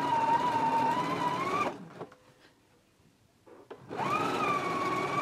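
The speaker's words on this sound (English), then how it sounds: "let's go to our machine now and we can stitch our 5/8 of an inch hem for our sleeves" A home sewing machine runs steadily stitching a narrow 5/8-inch sleeve hem on a jumpsuit, loud whirring bursts at the start and end separated by a quiet pause of faint handling noises.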